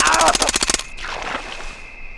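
Rapid automatic gunfire in the Rainbow Six video game rattles in a tight burst of about a dozen shots, then cuts off, leaving a ringing tail and faint background noise.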